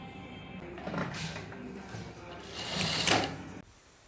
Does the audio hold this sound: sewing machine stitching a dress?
yes